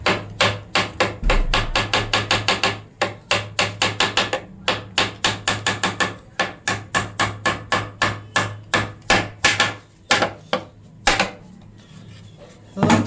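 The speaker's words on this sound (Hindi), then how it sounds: "अब हम इसमें लगा रहे हैं कील।" Hammer strikes drive nails into a wooden plank for a homemade seat: dense, rapid bursts of sharp knocks, with a few brief pauses between runs. The blows are close and loud throughout, with no talking.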